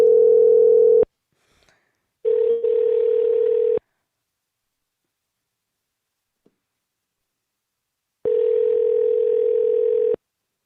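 A telephone tone sounds loud and steady in three separate bursts with silent gaps between them, heard while a call is placed back to a caller.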